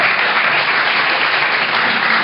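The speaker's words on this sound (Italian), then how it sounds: "Io farò un applauso ad Emilio" A crowd at a Puglia Pride event in Foggia applauding Emilio, a continuous dense wash of clapping, loud and even for a couple of seconds.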